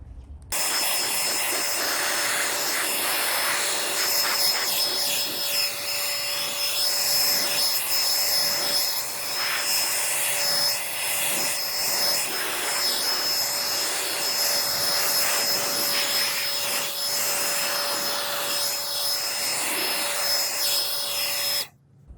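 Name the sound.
cordless blower at full power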